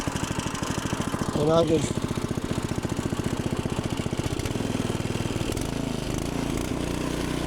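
A warm small engine, mower-like, fires up and runs at a steady throbbing idle with a brief rising rev near the start. Someone speaks briefly over it.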